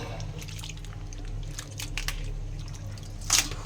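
Water drips and splashes while a boti blade, stained red from cutting beetroot, is rinsed by hand, giving soft wet squishes and trickles over a low steady hum, with a sharper splash near the end.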